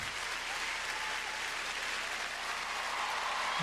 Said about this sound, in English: And a warm ovation from this audience